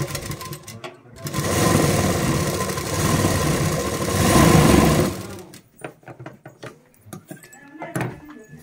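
An old-model sewing machine stitches a blouse with a loud, close, continuous rattling whir for several seconds, then stops, leaving scattered clicks and handling noises.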